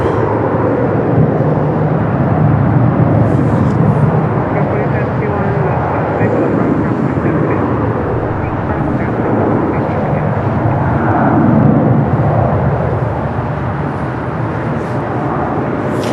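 A JetBlue airliner passes at snowy Newark airport with a loud, sustained, broad jet roar that swells and fades over about sixteen seconds while someone speaks over it.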